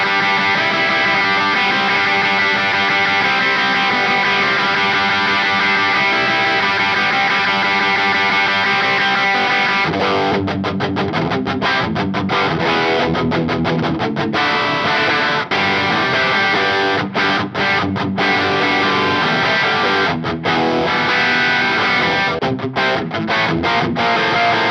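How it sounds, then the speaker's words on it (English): An electric guitar plays punk-style riffs through The Mutt pedal, a clean tone with a little distortion behind it, loud and steady throughout with brief gaps between strummed phrases. "So this is a clean sound first with a little bit of distortion behind it"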